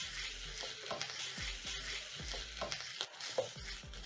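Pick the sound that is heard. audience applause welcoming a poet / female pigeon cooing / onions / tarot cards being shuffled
onions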